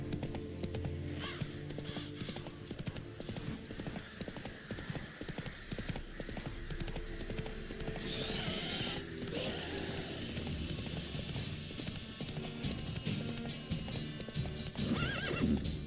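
Roach, a horse in the video game Witcher 3, gallops with a steady, fairly loud clip-clop of hooves throughout, with whinnying neighs mixed into the continuous running.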